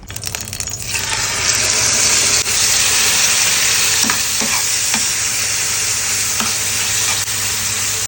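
Seasoned chicken liver frying in very hot oil, a loud, dense sizzle that swells up within the first second and holds steady, with a few light clinks and rattles of stirring.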